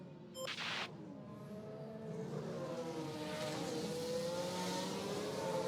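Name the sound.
Oscar Piastri's Formula 1 car engine in F1 Manager 2024 video game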